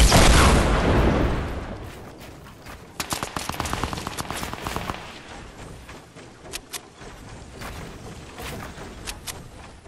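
Rocket explosions and gunfire in the Fortnite video game, opening with a loud booming blast followed by rapid bursts of gunshots and scattered sharp shots, no talking.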